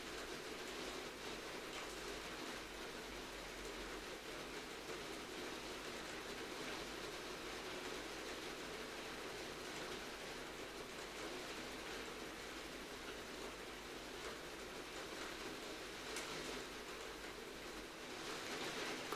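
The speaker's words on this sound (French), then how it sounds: "Je suppose que vous entendez la pluie sur le Velux." Rain patters on a Velux roof window as a faint, even hiss with a low rumble, unbroken and distant-sounding for the whole stretch.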